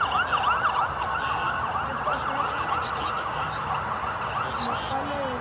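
An ambulance siren wails in a steady rising-and-falling pattern from an ambulance stuck in a traffic jam, moderately close, over low road rumble.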